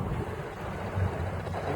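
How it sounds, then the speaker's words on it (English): Wind blows outdoors during a polyurea coating job with fine sand, a steady low rumbling buffet against the microphone that swells slightly near the end, with no voices. "It's a bit windy out here."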